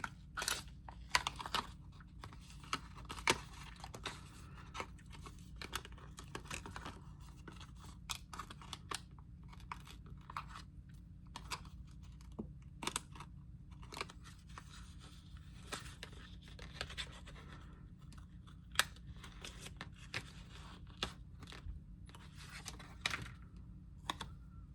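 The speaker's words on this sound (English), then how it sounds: "my scissors want to stick to the glue on the back" Scissors snip through glued paper for an art-journal collage, a steady run of small, close, crisp cuts and clicks that stick and tug now and then, quiet and with no talking.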